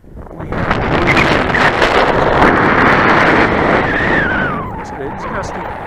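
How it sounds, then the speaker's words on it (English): Loud gusty wind at an RC flying field, a heavy roaring buffet that swells after the first second and stays strong for several seconds before easing, with a small electric model plane whining faintly near the end. "It's gusty."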